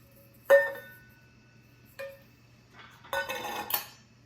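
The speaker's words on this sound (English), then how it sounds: "taking your knife and going around the bowl as you see me doing here" A knife traced around an upturned bowl to cut rounds from rolled-out quiche dough, heard as a sharp clink at the start, a lighter tap a moment later, then a brief rustle of scraping and clattering close by.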